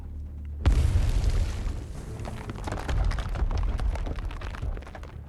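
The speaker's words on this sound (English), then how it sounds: "A string of explosions rings out of the building." A string of explosions ringing out of a building in an Arknights story scene, set off by the operator Fuze: a sudden loud boom opening into a long dense roar of blasts and crackling debris, sustained and close.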